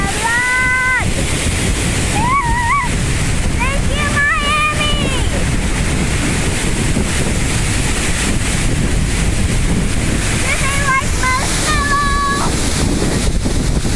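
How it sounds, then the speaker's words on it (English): Wind rushes steadily through a eucalyptus grove on a hillside, a loud continuous roar buffeting the microphone, with brief whistling bird-like tones above it near the start and end. "now the wind is continuing. Walking down a hill in a grove of eucalyptus trees."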